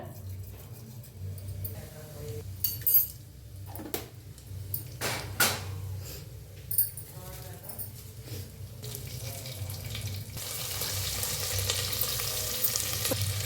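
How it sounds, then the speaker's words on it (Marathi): Cumin seeds crackle and sizzle in hot oil in a pan, with scattered sharp pops and clinks; the frying grows louder and steadier near the end. "तेल चांगलं गरम झालंय त्याच्यात टाका एक चमचा जिरं"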